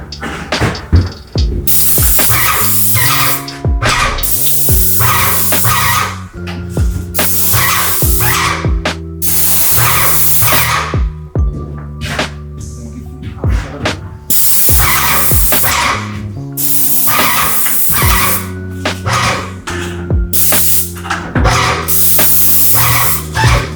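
A paint sprayer hisses in repeated bursts as it coats a newly constructed home, each spray pass starting and stopping abruptly, loud and close, with a low mechanical hum beneath and no talking.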